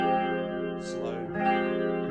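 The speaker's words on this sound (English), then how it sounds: "So of course it has rotating speakers in it, okay, to give it that tremolo effect." Leslie rotating speaker on its fast tremolo setting, a sustained guitar tone swirling and wavering in pitch and volume, heard alone at moderate level.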